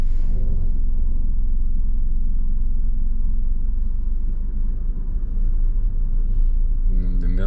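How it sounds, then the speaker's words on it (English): A car rolls straight back in reverse at low speed during a driving test, a steady close low engine rumble that holds evenly for several seconds before a voice begins at the end. "we're gonna reverse, straight back, look behind you, and just let the car roll straight back"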